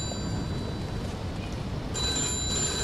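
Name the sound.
telephone ringing in the Mafia II video game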